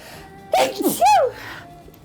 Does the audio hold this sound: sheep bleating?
no